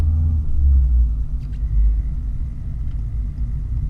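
A car pulls away after emerging at a junction, its engine a low swelling rumble that rises briefly and then settles into a steady drone, heard close up from inside with no talk.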